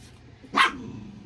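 A single dog gives one short, sharp bark. It is mid-distance, over a quiet indoor room hum.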